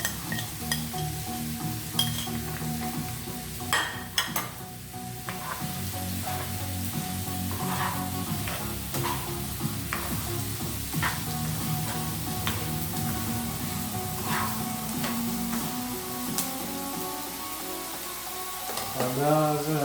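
Garlic sizzles steadily in hot oil in a pan while tomato paste is being made, with a constant close crackle and occasional light clinks of a utensil against the pan.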